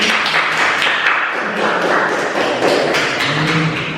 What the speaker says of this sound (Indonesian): Boleh tepuk tangan tidak?